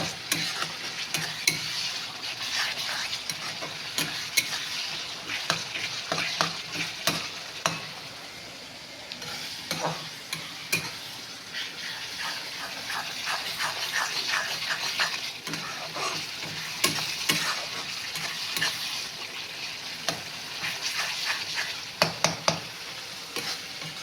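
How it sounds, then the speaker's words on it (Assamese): Spice paste frying in oil for fish curry, stirred steadily with a utensil: continuous close sizzle with repeated scraping strokes and light clatter against the pan, with no talking. "ভালকৈ এইখিনি মছলাখিনি মই ফ্ৰাই কৰিম"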